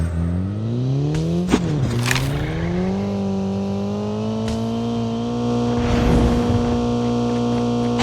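A game vehicle's engine drones steadily with layered harmonic tones, its pitch rising and settling as it drives, broken by a couple of sharp impacts and a brief burst of gunfire-like crackle, with no talk.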